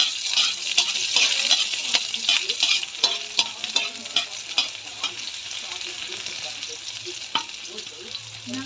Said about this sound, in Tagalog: Medyo ng golden brown na yung luya, lagyan natin bawang.